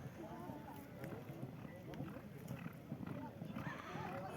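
Racing horses gallop with a busy, rhythmic drumming of hooves during a horse race at a family circumcision feast, while a commentator talks loudly over the sound throughout.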